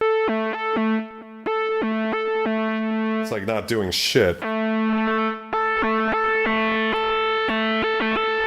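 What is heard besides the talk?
Roland JP-8000 synth with filtered sound and added distortion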